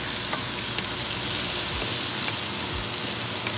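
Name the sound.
mushrooms sautéing in butter in a cast iron pan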